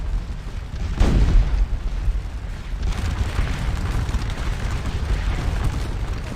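Cannon artillery fire in the Napoleonic battle game Scourge of War Waterloo: one heavy, close boom followed by a long rumbling roll of distant battle noise.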